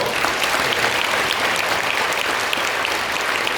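Sustained applause from a congregation during a church ordination ceremony, a dense, even wash of clapping filling the room for several seconds with no voices over it.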